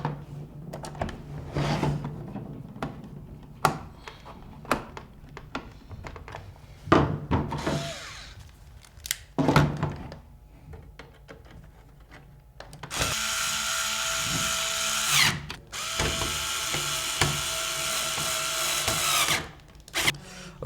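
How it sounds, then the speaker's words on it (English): A power screwdriver drives screws to reassemble a Nerf Longstrike CS-6 blaster, with short whirring bursts, clicks and handling of plastic parts, then two longer, louder buzzing runs near the end. "Okay, so now let's just screw this thing back together."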